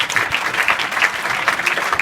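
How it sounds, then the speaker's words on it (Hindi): Schoolchildren at Shri Durga Ji Madhyamik Vidyalaya in Dayalpur, Azamgarh clap loudly for a student, a close, dense burst of many small hands beating in a quick uneven rhythm. "ताली मारेंगे बच्चे के लिए।"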